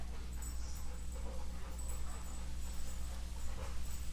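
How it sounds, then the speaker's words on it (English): A puppy whimpers and pants softly nearby, quick breathy panting with faint high whines over a low steady hum, quiet throughout. "And I hear my puppy."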